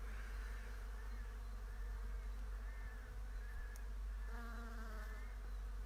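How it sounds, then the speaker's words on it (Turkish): Steady insect buzzing from bees hovering around blossoms in a cherry orchard, a continuous droning hum with slight waver, no voices. "Burası arı sesleriyle cıvıldaşırken"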